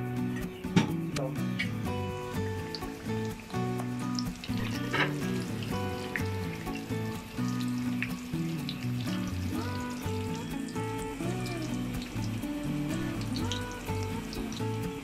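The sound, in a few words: samosa rolls deep-frying in hot oil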